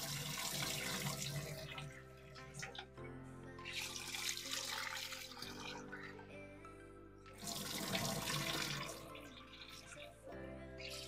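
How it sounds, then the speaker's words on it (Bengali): Basmati rice being washed under running water, a steady tap stream splashing into a bowl with surges and lulls as the grains are rinsed, fairly loud and continuous with no talk. "দু-3 বার করে আমি চালটাকে ধুয়ে নেব।"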